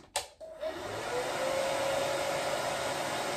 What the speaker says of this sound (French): le petit sèche-cheveux. Donc, je le mets au niveau 1